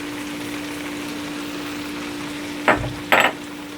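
Onions frying in a soup pot for a vegan vegetable soup, giving a steady low sizzle with a faint constant hum, then two short scraping stirs near the end.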